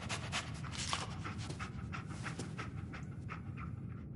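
Dog panting close by in quick, rhythmic breaths that continue throughout, with a faint whimper and no talking.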